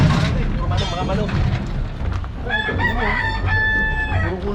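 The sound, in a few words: chickens clucking and rooster crowing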